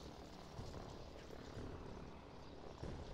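Helicopter rotor and engine noise from the strategy video game Line War, a steady broadband whir and thrum that persists throughout at moderate, fairly even loudness with no talking over it.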